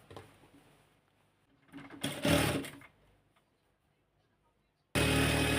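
Sewing machine stitching the leg section of a pajama, a short burst of fast close stitching after quiet handling noises, then a second loud run of stitching starting near the end.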